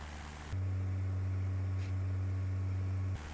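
Steady drone of a Cessna engine in Flight Simulator X, a constant low hum that cuts in abruptly and stops just as suddenly, with a faint noise bed and no talking.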